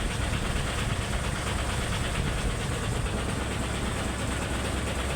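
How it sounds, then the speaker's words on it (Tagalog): A vehicle engine being cooled down, the crew pouring water over it on the road, runs at a steady, dense rumble with a fast knocking pulse. It is close and constant throughout, with no talk over it. "pinapalamig natin yung uh, makina pinapasingaw natin yung uh, init ng makina"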